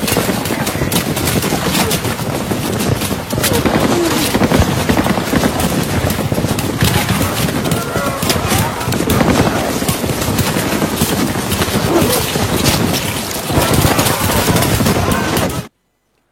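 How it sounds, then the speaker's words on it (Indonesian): Dense gunfire from a war film battle scene, American troops firing on Japanese soldiers in the Kalimantan jungle, with continuous loud rattling bursts and volleys packed together without pause for about fifteen seconds before cutting off abruptly. "pasukan Amerika langsung menembaki Tamura dan lainnya"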